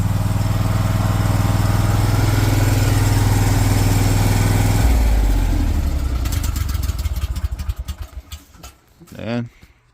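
A propane standby generator engine runs at a steady low idle, then shifts and surges back up, its note changing and ending in a few uneven revving pulses, heard up close and loud.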